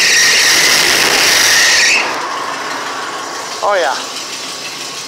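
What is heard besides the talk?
custom van engine starting and idling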